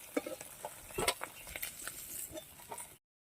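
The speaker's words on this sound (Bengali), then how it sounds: "মাছগুলো ভেজে নেবো এক এক করে" Pieces of pangas fish are fried in oil, with a soft sizzle under light clinks and stirring clatter from a utensil in the pan, fairly quiet and brief.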